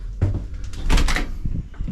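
A door on a cruise ship cabin opens with a thump and a latch clack, followed by softer knocks and shuffling, close by.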